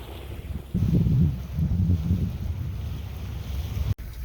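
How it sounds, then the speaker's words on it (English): Wind rushing over a sailboat under sail with the mainsail up, a steady blustery roar with low buffeting gusts and a faint wash of water, continuous and close, with no voices. "Getting a little bit of wind action going on there."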